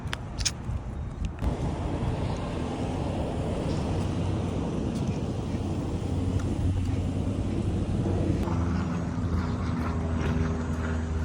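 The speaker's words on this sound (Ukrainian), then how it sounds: "Самольоти тут так літають, літаки." A low, continuous engine drone of airplanes passing overhead in Canada, steady and moderately loud, with a brief sharp click near the start.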